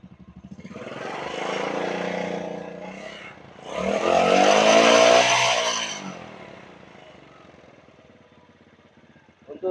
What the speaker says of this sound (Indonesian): Untuk di gas besar